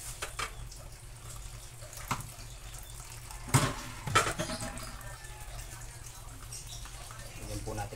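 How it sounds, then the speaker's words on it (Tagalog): Water runs into a pot of mud crab being cooked with butter and banana ketchup, a close splashing gush that builds around the middle and then settles into a softer trickle, while a person talks. "Ilagyan po natin na konting tubig."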